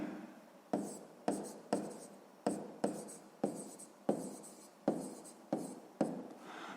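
Handwriting on paper while working a sixth-grade math exercise: about ten short, scratchy pen or pencil strokes in a steady rhythm, close and quiet, with no speech.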